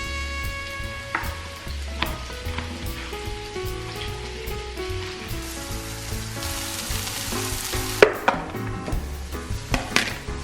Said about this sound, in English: Saute that all together,